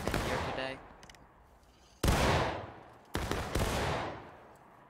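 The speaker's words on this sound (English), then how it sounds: "I didn't know this map gets artillery" Battlefield combat in the Civil War game War of Rights: three sharp, loud artillery or musket blasts, each with a long rolling decay, spaced about a second apart against quieter distant gunfire.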